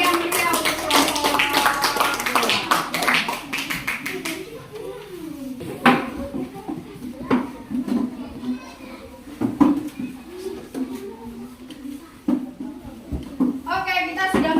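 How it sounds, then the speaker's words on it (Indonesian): Students in a classroom clap their hands together in a burst of applause, with children's voices and chatter continuing over and after the claps. "Beri tepuk tangan dulu."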